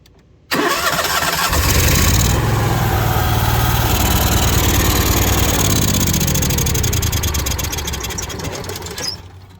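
An Onan 5500 RV generator engine cranks and catches abruptly, then runs loud and steady at a constant drone close by, with a small mechanical clatter near the end before it shuts down.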